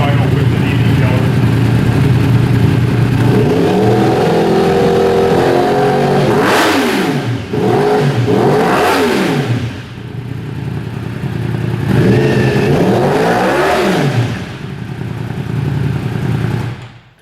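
A 2015–2017 Yamaha YZF-R1 running indoors on an Arrow Competition full exhaust with the dB killer fitted. It settles into a loud, steady idle, then gives several sharp throttle blips that rise and fall, and finally returns to idle.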